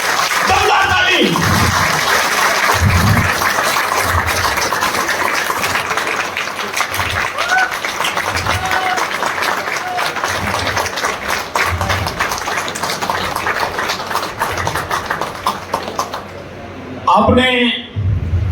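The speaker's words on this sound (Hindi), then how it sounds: "तो से दमदार ताली आप लोगों के लिए" An audience at a business presentation in Baddi claps in a long, sustained round of applause, dense and steady, while someone speaks over it on a microphone.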